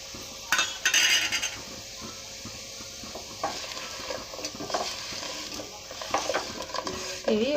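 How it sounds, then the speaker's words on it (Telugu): Fried taro root pieces are stirred with spice powders in a pan, giving a soft sizzle under repeated scraping and clinking of a spoon against the metal, with no talking. "ఇవి ఒక 2 నిమిషాలు వేగనిద్దామండి."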